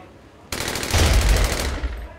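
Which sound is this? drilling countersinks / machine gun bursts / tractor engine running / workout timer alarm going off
machine gun bursts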